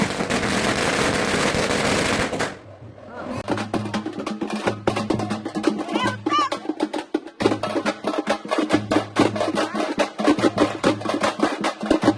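During the Ganesh festival, a burst of loud crackling gives way to rapid strings of sharp firecracker pops, bang after bang in uneven volleys, close by.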